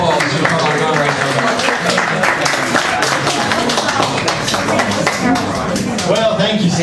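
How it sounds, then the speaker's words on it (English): An audience at an evening talk on liberty and guns applauds speaker Darren Wolfe, loud continuous clapping with overlapping voices and chatter mixed in throughout. "Let's give Darren a round of applause"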